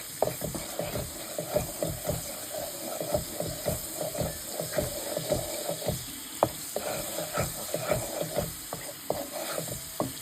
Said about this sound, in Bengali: লবণ দিয়ে নেড়ে দিলাম।